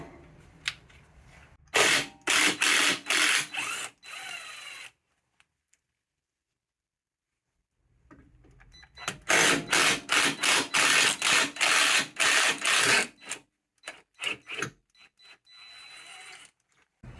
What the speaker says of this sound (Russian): Сворачиваем здесь болты, которые удерживают как раз втулки стабилизатора.